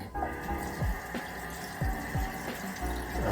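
Running tap water splashes in short bursts as it's cupped and thrown onto a face, close and fairly quiet, several splashes over a steady faucet flow.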